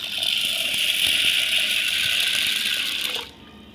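Sago pearls are washed in a vessel of water, a close, steady splashing and swishing that runs for a few seconds and then stops abruptly, with no voices.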